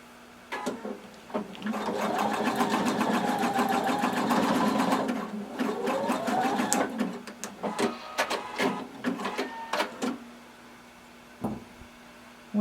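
Sewing machine stitching swimsuit fabric, a close, steady whirring hum of fast needle strokes for several seconds, then slower stop-start bursts and clicks as the seam is guided, with no voices.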